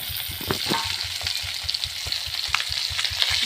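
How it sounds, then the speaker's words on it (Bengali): Fish fries in a pan with a strong, continuous sizzle and hiss over a run of soft, regular low thumps. "মাছ ভাজি করে দিতাম"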